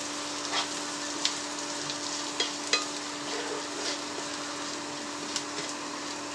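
Masala of salt, coriander powder, chili powder and turmeric frying in a pan for a vendakka puli curry, a steady close sizzle with occasional sharp scrapes of stirring, no talking.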